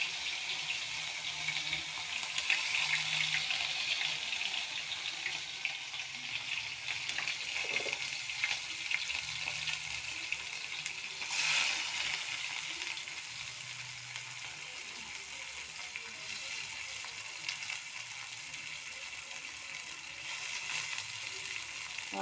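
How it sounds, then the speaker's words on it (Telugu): Mustard seeds splutter in hot oil, a steady close-up sizzle dotted with fine crackles and pops that runs throughout, with no speech. "ఆవాలు చిట్లింది"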